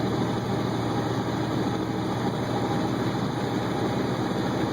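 A motorcycle engine runs steadily at highway speed, producing a constant, loud droning rumble with road and wind noise and no pauses throughout.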